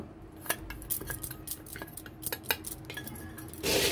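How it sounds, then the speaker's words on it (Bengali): A utensil mixes chanachur snack mix in a large metal pot, giving close, quiet scraping and rattling with sharp clinks against the pot sides in an irregular rhythm, ending in a louder rustling shake. "এখন চানাচুরগুলো এখানে মিশিয়ে নেব একসাথে।"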